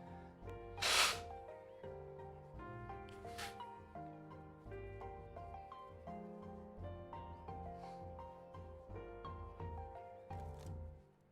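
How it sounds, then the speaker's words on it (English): Someone blows their nose in a few sharp, breathy bursts, the loudest near the start, over soft background music with no talking. "Let me blow my nose."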